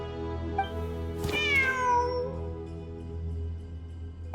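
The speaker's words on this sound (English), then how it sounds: "Wait, there it is! The cat!" A cat meows within a video game, one drawn-out, falling meow rising clearly over a steady low hum of game ambience, fairly close and alone with no talk.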